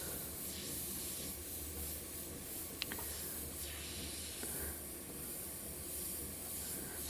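Steady spray from an Infinity airbrush, a continuous broad hiss that holds for several seconds with a couple of faint clicks midway.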